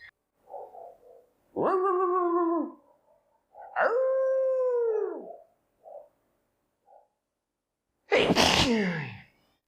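A dog gives several drawn-out, wavering whines or howls with short pauses between them, ending in a sharp, sneeze-like burst, close and clear over a silent background with no talking.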